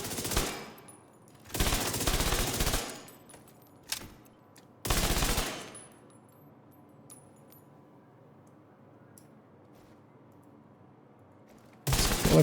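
Assault rifle fire in a video game comes in several loud automatic bursts, the longer ones lasting about a second, separated by quiet gaps, with a final burst at the end.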